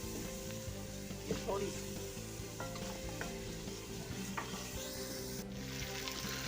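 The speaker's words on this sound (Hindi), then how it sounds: "अब हमारा मसाला तकरीबन भून चुका है बिल्कुल। इसे थोड़ा सा आपने 5 मिनट भूनना है।" Masala with kalonji and turmeric frying in a pan for ojri curry, a steady gentle sizzle with intermittent scrapes of a spoon stirring, fairly faint, with a brief spoken phrase.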